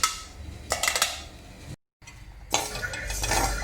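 Drained broken wheat roasts in a pan over low to medium flame, with spoon scrapes and clinks against the metal, a short silent gap, then continued close stirring.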